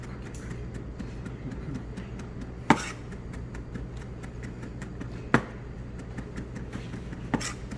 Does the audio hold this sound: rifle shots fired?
no